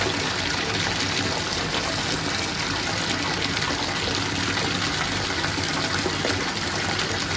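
Water pours steadily into a bath, a continuous dense rushing splash at constant loudness throughout, with no voices over it.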